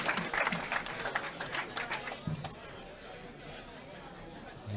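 Crowd at a 9-ball pool match between Efren Reyes and Mika Immonen breaks into scattered clapping and cheering under dense chatter, loudest early then settling into a steady murmur of voices.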